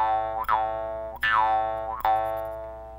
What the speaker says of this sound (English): These are jaw harps